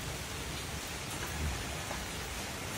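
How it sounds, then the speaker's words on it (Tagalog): Heavy rain pours steadily on a rainy morning, a dense, even hiss with a low rumble underneath, constant and close throughout with no voices. "nakapakalakas ng ulan"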